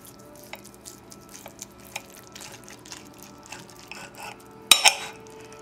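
Knife and fork clink and scrape against a plate while cutting into a rare beef burger stuffed with shrimp: light taps and scrapes, close and quiet, ending in a sharper clatter.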